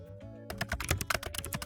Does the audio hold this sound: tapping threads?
no